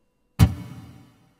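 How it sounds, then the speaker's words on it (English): A single acoustic guitar note or strum treated with reverb from a Zoom A1 Four pedal, a sharp attack followed by a smooth wash that decays over about a second, heard alone. "Wow, it's a good reverb."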